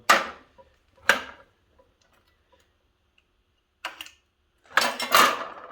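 Studs are spot-welded onto a 1948 GMC truck: short, sharp crackling zaps come in separate bursts, two early, then a pause of near silence, then a cluster of louder bursts close together near the end, with no voices.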